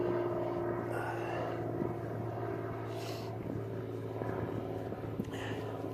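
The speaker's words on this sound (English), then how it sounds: "Single engine little prop plane." A single-engine small propeller plane passing overhead outside a garage during car repair work, a steady droning hum that holds for several seconds with some faint handling noises close by.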